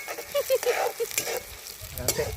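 Gentle frying sizzle of onions and green chillies in a pan, with soft crackles and a few stirring clinks, fairly quiet and close.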